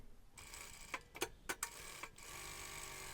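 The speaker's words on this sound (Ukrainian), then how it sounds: "І тепер прокладаю шов, тільки він обов'язково має проходити по клеєвій смужці" Sewing machine stitching a seam along an interfaced strip on a belt piece of stretchy fabric, a short burst of quick ticking stitches and clicks, close and quiet, with no talking.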